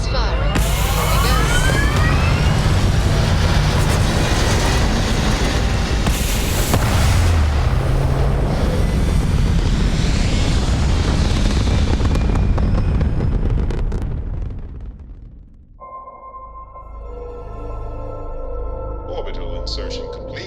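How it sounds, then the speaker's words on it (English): Spaceship engines fire at launch in Starfield on Xbox Series X, a loud, sustained roaring rumble with swelling hiss that fills the scene, then cuts out abruptly into a quiet cabin hum with faint tones. "Engines firing."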